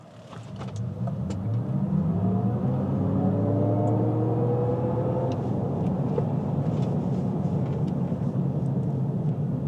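A 2025 Cadillac Optiq Luxury 2 electric car accelerates with its artificial drive sound, a rising synthetic tonal hum over steady road and tyre noise from inside the cabin.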